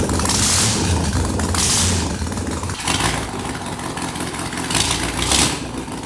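Caterham 7 kit car engine running with the exhaust headers removed, a loud, raw, continuous roar with rough crackling texture that swells and dips slightly throughout.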